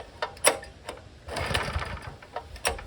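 An old small engine with dry-rotted plastic parts runs roughish and below full throttle, giving a close, uneven idling chatter with irregular pulses and surges rather than a steady roar.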